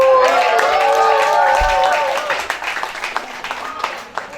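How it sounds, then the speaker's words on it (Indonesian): A theatre audience at an end-of-period show claps for the artistic team, the applause running beneath a loud sustained voice or tone at first, then continuing with scattered cheers. "Tepuk tangan dong."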